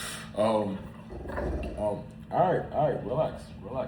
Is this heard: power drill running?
no